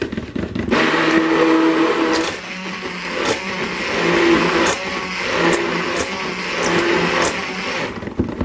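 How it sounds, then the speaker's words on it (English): A stick blender mixing cold process soap batter whirs in several short bursts, a steady motorized hum with pauses in between, close by and fairly loud. "I'm gonna rinse my stick blender off."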